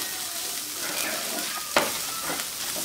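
Onions frying with coriander powder in a pan, a steady close sizzle with stirring scrapes and one sharp clink of a spoon against the pan partway through.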